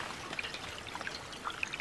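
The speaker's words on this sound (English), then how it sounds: "Let your tub fill up," Spring water from a catchment line trickles and dribbles into a tub, a soft continuous watery patter with small bright splashes, fairly quiet and close, with no voices.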